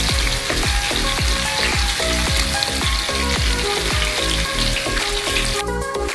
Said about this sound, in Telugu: ఆ విధంగా మనం చేప ముక్కల్ని తిప్పుకుంటూ ఉండాలి